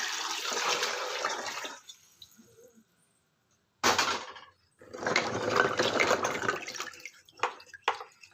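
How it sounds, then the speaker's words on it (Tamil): Water splashes and pours in bursts over a brass lamp being rinsed, with a quiet gap between them, close by and fairly loud. "இப்போ இந்த தண்ணியை ஊற்றிடலாம்"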